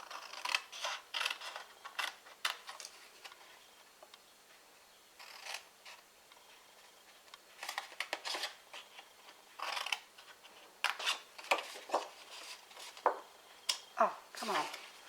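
Scissors snip repeatedly through a cardboard box lid to remove corner squares, giving quiet, close crunching cuts in irregular bursts separated by short pauses.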